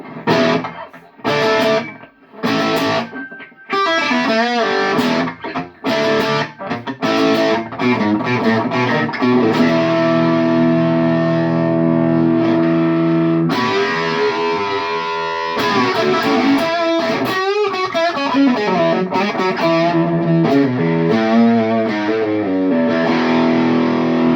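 Electric guitar played through a Marshall JTM amp pushed with a Wampler gearbox overdrive pedal, loud and crunchy: stop-start chord stabs at first, then sustained distorted chords and riffs ringing out alone.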